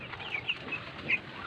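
Several chickens cluck softly while feeding, short chirpy calls scattered over a steady farmyard background at moderate distance, with no talking.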